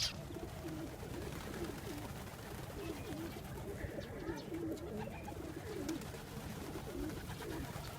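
Pigeons coo in soft, repeated low rolling calls while feeding on seeds outdoors. A steady background rumble runs underneath, and the birds sound fairly close.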